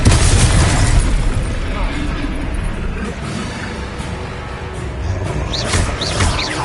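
Confringo explosive spell blasts in Hogwarts Legacy, rumbling bursts and crackling impacts layered in a busy battle mix with a shouted voice at the start, loud and dense throughout.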